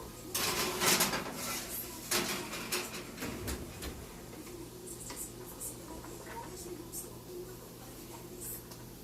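A pan of nearly precooked kielbasa being put into a home oven, heard as faint metallic clinks, clicks and clatter of cookware in a quiet kitchen.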